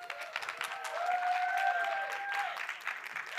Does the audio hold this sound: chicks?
no